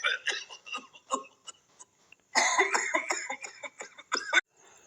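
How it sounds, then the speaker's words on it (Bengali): An old patient's coughing as a sound effect in a ghost story: a run of close, throaty hacking coughs in uneven bursts, with a louder fit in the middle and short pauses between. "তখন শোনা যায় খকর খক, কোনো পুরনো রুগীর কাশির শব্দ।"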